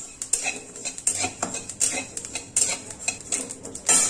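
Sesame seeds are stirred while dry-roasting in a pan: a spoon clinks and scrapes repeatedly against the metal in a steady, close rhythm with a light rattle of seeds and no talk.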